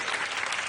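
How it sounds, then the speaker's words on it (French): An audience at a hypnosis stage show applauds the volunteers, a brief dense wash of clapping, steady and fairly close with no pauses. "On applaudit nos volontaires, oui."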